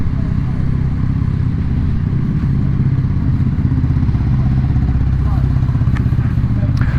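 Yamaha Tracer 9 GT motorcycle engine on a ride, with a steady low rumble and wind roar throughout, plus faint clatter near the end.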